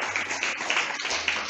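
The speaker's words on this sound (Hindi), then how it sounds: "ताली बजाइए।" Children in a school classroom clap for a team, a dense, steady patter of many hands with faint voices mixed in.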